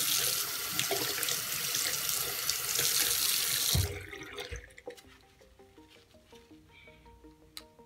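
Tap water runs steadily into a sink while glasses are rinsed to wash off a removed anti-reflective coating, then it cuts off around the midpoint, leaving quieter drips and small clinks.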